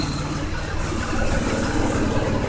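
Mazda6 idling just after startup following an engine swap, with a small exhaust leak from a missing donut gasket; a steady, close, low rumbling idle runs continuously with slight vibration and no talk.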